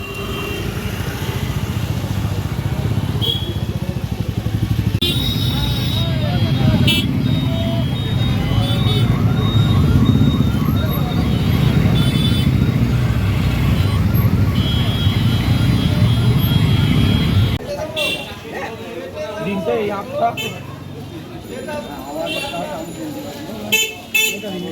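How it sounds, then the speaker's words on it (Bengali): Traffic jam of cars, motorcycles and buses held at a closed railway crossing after rain, with engines idling, occasional horn toots and a busy street roar, dropping off sharply near the end, with people talking throughout. "এই যে সামনে এখন রেলগেটে দাঁড়িয়ে আছি, বিশাল জ্যাম লেগে গেছে, গেট পড়েছে।"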